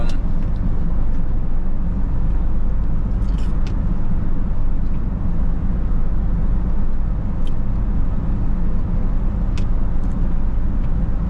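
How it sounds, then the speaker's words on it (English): Rain drums steadily on a Nissan car as it drives along a highway between trucks, a loud continuous wash of road noise and patter heard from inside, with occasional faint ticks and no talking. "It's really raining."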